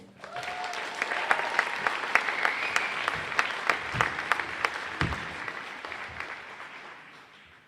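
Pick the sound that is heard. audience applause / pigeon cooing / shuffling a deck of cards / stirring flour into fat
audience applause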